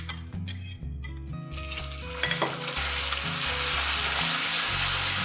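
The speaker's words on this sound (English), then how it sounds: "Let's go ahead and add our butter." Butter hits hot caramel in a pan for a salted caramel cheesecake, crackling and sizzling loudly while being stirred, the frying hiss swelling and holding steady partway through with scraping stir sounds throughout.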